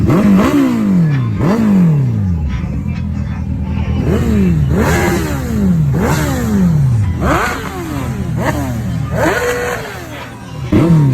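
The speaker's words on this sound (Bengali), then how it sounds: "এক ব্যক্তি রশি ধরে মোটরসাইকেলটাকে টানছে" Loud, repeated revving of a motorcycle engine, each burst climbing and dropping in pitch, as a man pulls the bike by a rope in a circus game.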